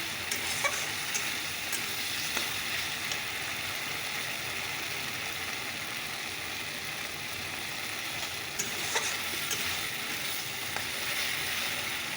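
A spice paste of ginger, garlic, onion, green chilli and cumin fries on low gas, giving a continuous soft sizzle with faint sputters and occasional stirring clicks, no voices.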